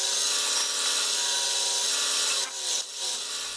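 A long drill bit bores steadily into wood under hand feed, a continuous whining grind with bright harmonics that briefly dips twice near the end, no voices.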